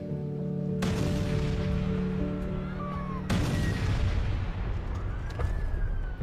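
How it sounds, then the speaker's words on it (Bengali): Distant bomb blasts boom one after another at night, broad and rumbling, with a low tonal drone at first and a steady hiss behind it. "বোমার আওয়াজ পেলাম"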